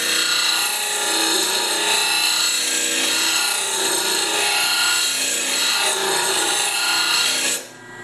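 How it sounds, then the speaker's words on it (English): A grinder works metal off the edge of a mower blade to bring it into balance, giving a loud, steady abrasive rasp that runs unbroken for several seconds before cutting off sharply at the end. "Now that I've grinded it a bit, I'm going to put it back on the balancer."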